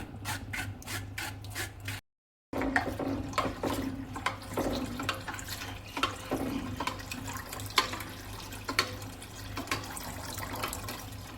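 Water is poured into a potted plant at home, a steady splashing and trickling stream heard close with a low hum beneath, broken by one short gap of silence near the start.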